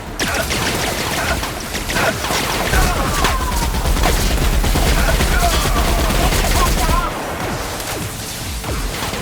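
Dense, loud gunfire from the video game The Outer Worlds, with rapid overlapping shots and bursts filling the whole stretch and impacts and explosions mixed in, the barrage easing slightly near the end.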